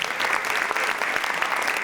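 A concert audience applauds the trombonist of a community college jazz band, a dense, even wash of many clapping hands sustained throughout at moderate distance.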